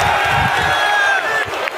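A live studio audience screams and cheers loudly at a wrestling-style show. The roar is dense and continuous from start to finish, with shouts and whoops rising out of the din.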